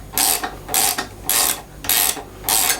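A wrench tightens the head nut on an old bath tap in a series of five rhythmic, close grinding creaks, each a short burst with brief pauses between.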